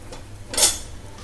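A gluten-free restaurant-style kulcha is flipped on a hot pan, giving a single short scraping clatter of utensil against metal over a faint steady background hum.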